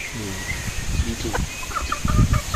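A hen among gamefowl clucks in short bursts close by, with a few other chicken calls and a voice talking over the birds.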